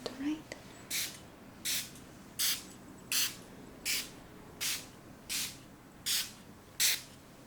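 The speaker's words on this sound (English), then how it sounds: "I'm just going to use this eclipse spray to make a portal around you" An eclipse spray bottle is pumped during a guided Reiki ASMR session, giving nine evenly spaced short hissing bursts close to the microphone over a quiet background.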